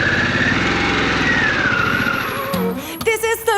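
A Harley-Davidson Pan America Special motorcycle engine droning steadily while riding, loud and close, with a pitch shift near the end as a voice and music come in over it.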